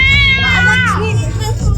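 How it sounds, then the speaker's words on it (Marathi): A cat at an agricultural fair in Chiplun gives a short rising-and-falling meow, close and clear, while children's voices and chatter from the busy exhibition carry on around it. "दोन मांजरी"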